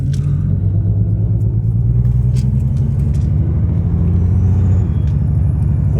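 A Nissan R33 Skyline GTST engine drones loud and close from inside the car as it accelerates, a steady low rumble that rises slightly and then dips near the end.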